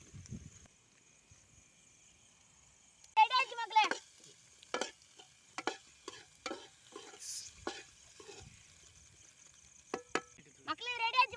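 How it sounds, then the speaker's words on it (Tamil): Eggs frying in a pan with salt and pepper are stirred in a series of short, sharp scraping strokes, spaced irregularly and close by, over a faint quiet sizzle. "முட்டை கிண்டிக்கலாம்"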